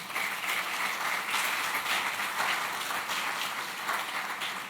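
Steady applause from a crowd, dense clapping that holds at an even level throughout with no voices over it.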